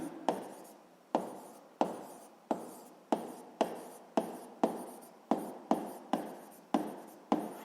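A pen scratches out a physics equation by hand in a regular series of short, crisp strokes, each tapering off, close and quiet with no talk.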